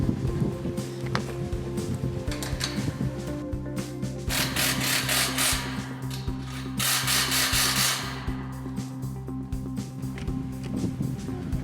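Steady mechanical rubbing and ratcheting as a Gallagher Mega Anchor gate anchor fitting is tightened during installation, close and continuous with brief louder bursts of grinding, no talking.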